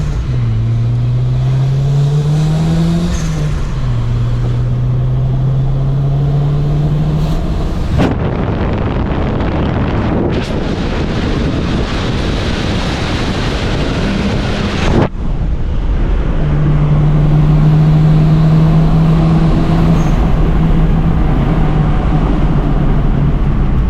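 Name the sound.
tuned car engine revving with Seafoam in the oil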